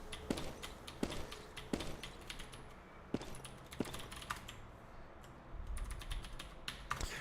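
Rapid clicking keystrokes on a computer keyboard with a couple of broken keys, typed in quick uneven bursts with a few sharper taps standing out, close and fairly quiet, with no talk.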